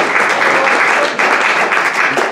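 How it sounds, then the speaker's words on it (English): Audience applause at a historical society talk: dense, loud clapping from a crowd, sustained and even across the whole stretch with no break. "let's give a little hand of applause to Victor Steinbrück for saving the place."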